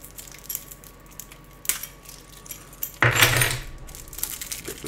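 Keys jangling: a few light metallic clinks, then a louder burst of rattling jingle near the microphone that continues in scattered taps, heard alone without speech.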